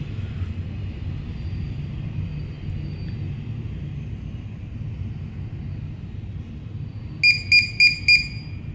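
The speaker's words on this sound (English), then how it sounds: "Okay, it'll beep." A key card reader beeps four times in quick even succession, sharp and close, during a firmware update, after a long stretch of low steady hum from the room.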